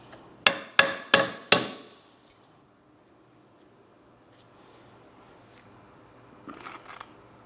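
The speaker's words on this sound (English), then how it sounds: "I'll continue on with a hammer. Just a couple light taps." Four sharp, evenly spaced hammer taps ring out on a front control arm bushing of a 2004-2008 Pontiac Grand Prix, followed by a single lighter knock and faint shop clatter.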